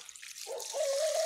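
Water runs from a tap, starting faint and settling into a steady, close stream with a rising gurgling tone.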